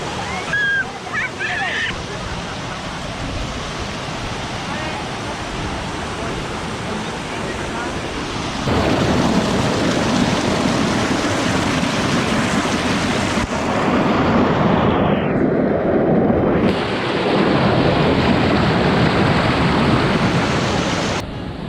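Heavy rain pours at Grojogan Sewu waterfall in Tawangmangu, a dense, steady hiss that grows louder partway through, with a roaring, wind-like wash and no clear voices.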